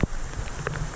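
Heavy rain falls steadily during a jungle river campsite pack-up, with a dense hiss of rain hitting surfaces and a few closer drops and taps.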